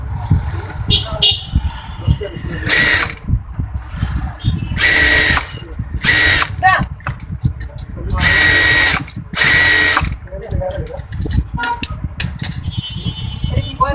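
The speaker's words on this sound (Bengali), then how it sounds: "এখন আমি কামিজের সাইডটা মেরে সেলাই করে নিব।" A sewing machine stitches the side seam of a baby's kameez in several bursts of rapid mechanical whirring, loud and close, separated by pauses. Talking runs underneath.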